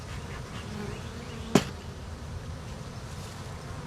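Honey bees hum in a low, steady buzz throughout, broken once by a brief sharp click.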